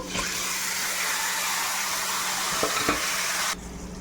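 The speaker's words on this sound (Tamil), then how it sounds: "இப்போ நம்ம நல்லா மேக்னேட் பண்ணி வச்சுருக்கிற சிக்கனையும் அதில் போட்டுக்கலாம்" Marinated chicken sautéing in a spiced pan for pepper chicken, a steady close sizzle with stirring scrapes and a couple of brief knocks, then the sizzle drops suddenly near the end.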